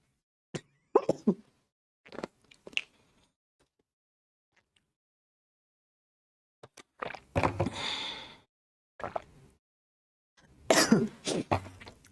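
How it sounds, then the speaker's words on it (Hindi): A few separate coughs close by, with quiet pauses between them and a couple of heavier, raspier bursts near the end. "मुझे ना खांसी।"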